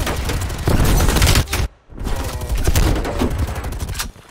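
Sustained gunfire from Call of Duty on the Nuketown map, fired through a wall: dense, loud bursts of shots run almost continuously, with one brief pause before the firing resumes.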